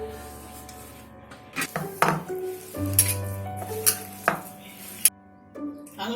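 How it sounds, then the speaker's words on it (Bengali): Mashed potato being worked by hand with chilli powder, chopped onion, coriander leaves and green chilli for aloo paratha, giving soft squelchy kneading and scattered bowl clinks close up, with no talk. "আলুটা এইভাবে মেখে নিয়েছি।"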